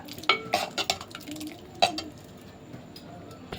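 A spoon stirring dal with green chillies and chili powder in a metal pot, a series of close clinks and scrapes against the pan, then quieter stirring.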